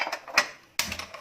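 Two sharp mechanical clicks a short pause apart as a gas stove knob turns and its igniter catches, close by with no talking.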